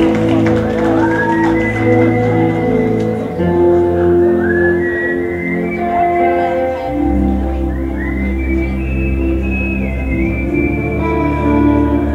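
A man whistles on stage in imitation of Elvis, a shifting melodic line over crowd noise and occasional shouts and applause, loud and near.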